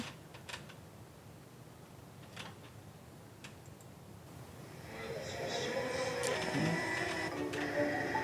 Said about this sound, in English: somebody being able to play music and then have it 3D print with colors